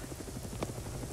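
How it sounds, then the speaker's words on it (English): A helicopter in the video game Arma 3 thrums with a faint, steady rotor chop in the background, heard alone. "Heli."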